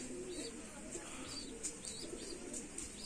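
Pigeons coo softly in a loft, low repeated calls with a few faint chirps.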